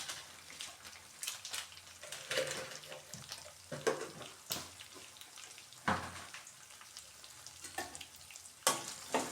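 Cumin seeds sizzle in hot oil in a pan with a quiet crackle and scattered louder pops and spits, heard alone.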